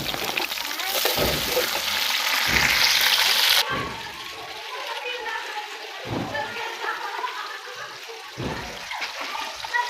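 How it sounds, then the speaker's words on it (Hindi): Onion browning in a pan with green garlic for a vegetable rice dish: a steady loud sizzle and crackle with some clattering stir sounds, louder for the first few seconds and then settling to a softer fry. "तो ये प्याज मैंने ब्राउन होने के लिए रख दिया। इसमें मैंने हरा लहसुन भी डाल दिया।"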